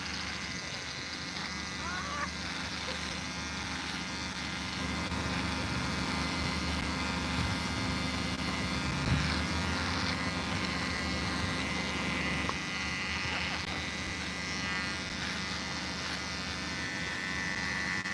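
An electric razor shaving: a continuous, steady buzzing drone, fairly close and moderately loud, running unbroken with slight changes in tone as it moves.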